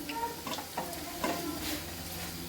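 Green chillies sautéing with onions in a pan for a dry potato bhaji, a steady soft sizzle with a few light stirring scrapes, close and moderately quiet, no voices.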